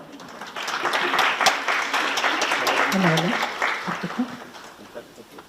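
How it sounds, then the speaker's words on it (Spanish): Audience applause fills the room steadily for several seconds, with a brief voice rising over the clapping midway before it tapers off. "Un aplauso, por favor."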